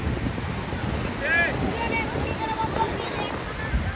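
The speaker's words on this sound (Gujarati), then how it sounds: "જો મજબૂત પાણી જાય છે." Strong river water rushes steadily past on a road trip over Zojila Pass in Ladakh, a constant broadband roar mixed with wind buffeting the microphone, while voices talk briefly over it.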